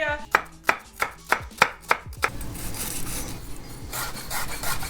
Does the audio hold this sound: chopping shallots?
yes